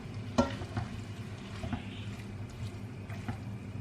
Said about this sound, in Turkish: Şöyle karıştırarak şöyle salçayı her tarafına